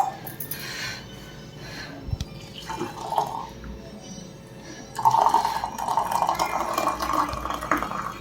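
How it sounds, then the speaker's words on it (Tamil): Water splashing and trickling as it is drained from a cooking pot of ragi kali, with dripping and clattering, a steady pour building louder in the second half. "தண்ணி ஒரு அரை சொம்பு வடிச்சிடலாம்."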